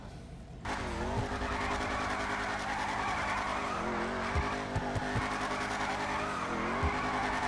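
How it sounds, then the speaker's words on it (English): A Ruiner 2000 car drifts in GTA Online, its engine droning steadily while tires squeal in repeated rising and falling bursts, close and loud, with a few sharp knocks as the car slides. "This is a whole new world of drifting."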